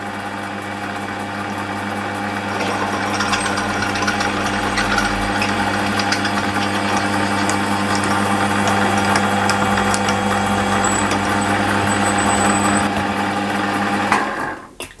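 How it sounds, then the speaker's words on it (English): Lathe turning slowly while a reamer works a small engine part in a home workshop, giving a steady mechanical whir and hum that holds even for about fourteen seconds before winding down at the end, near and fairly loud. "We need to slow the lathe down considerably for this. Run the lathe slowly when you're reaming."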